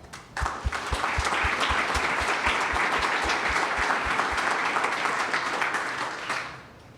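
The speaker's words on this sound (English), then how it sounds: "can you raise your hand and we'll give them a round of applause as well" Sustained applause from an audience at a startup demo day honours professional service providers, with a few sharp, evenly spaced claps close by over a dense, steady wash of clapping that tapers off near the end.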